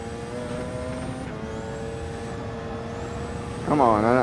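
Porsche race car in Gran Turismo 7 on a Le Mans track, a steady engine drone held at constant pitch under a talking voice, then a sudden louder wavering whine as revs rise near the end.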